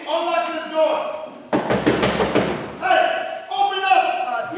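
Pounding on a locked door during a stage play: a burst of heavy, rapid thuds lasting over a second, with raised voices talking before and after.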